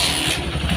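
A Yamaha Megapro motorcycle engine with a rough-sounding top end idles steadily up close, a smooth continuous low rumble with no other sounds.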